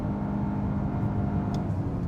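A 2025 Nissan Altima 2.5 SV AWD engine roars in a steady, loud rumble under acceleration, heard from inside the car with no talking.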